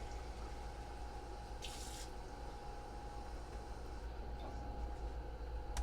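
Tap water runs steadily into a measuring cup while two cups of water are measured out for a chicken noodle soup, a constant close rushing stream with a brief brighter splash partway through.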